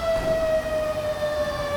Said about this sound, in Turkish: sen de durup durup boşa siren çalıyorsun ya